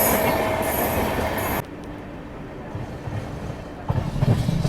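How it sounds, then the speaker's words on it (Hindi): The Saraighat Superfast Express rolls past as a loud, steady rail rumble with bright wheel hiss, then drops abruptly to a quieter rolling drone before swelling again with heavier clatter near the end; no voices. "और ये रही है अपनी सरायघाट एक्सप्रेस,"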